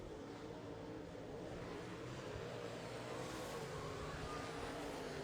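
Late model race cars on an oval dirt track, a Longhorn chassis dueling a Masters-built car in a heat race; a steady, dense engine roar holds throughout, broad and loud with no clear passes standing out.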